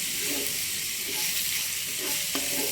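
Onions fry for egg bhurji in a pan, giving a steady, bright sizzle with soft stirring scrapes underneath and no talk.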